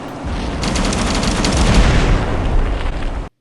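Aircraft guns fire in a flight combat video game as a sustained, loud, dense rattling burst lasting about three seconds, heavy and roaring, cutting off abruptly at the end.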